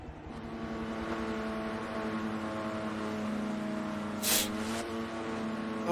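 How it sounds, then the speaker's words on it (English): Engine of a Renault RS17 Formula One race car in Forza Motorsport 7, a steady droning tone running throughout with a brief hiss or burst near the end. "I'm using the same car as before, the Renault RS17, just because it's the car that I already had."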